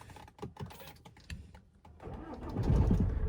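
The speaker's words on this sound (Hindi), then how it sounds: "गाड़ी को मैं स्टार्ट कर लेता हूँ एक बार।" A Tata Harrier's engine cranks and catches near the end, swelling into a loud, close rumble after a run of light clicks and handling noises inside the cabin.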